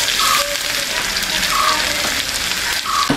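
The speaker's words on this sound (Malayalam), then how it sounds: "അപ്പോൾ എണ്ണ ചൂടായിട്ടുണ്ട്, അതിലേക്കായിട്ട് നമുക്ക് കുറച്ച് ഉണക്കമുളക് ഇട്ട് കൊടുക്കാം." Dried chillies and garlic paste fry in hot oil, giving a loud, continuous close sizzle with a few brief clinks of a utensil against the pan.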